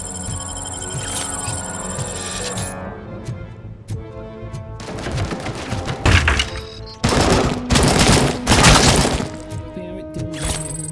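Gunfire from shooting enemies in the video game RoboCop: Rogue City: loud, dense bursts of shots and impacts in the second half, crowding over a steady game soundtrack.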